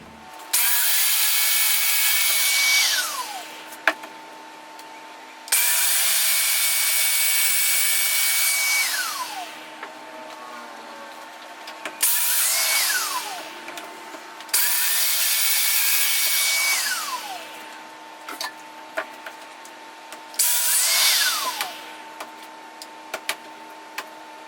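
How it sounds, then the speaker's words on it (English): A domino joiner plunging mortises into wood for casework, cutting the front edge at the narrow setting: four long, loud whirring cuts, each with a rising spin-up whine and a falling spin-down, separated by brief pauses and clicks, close and with no speech. "I'm going to domino the front edge mortise with a paddle at the narrow setting"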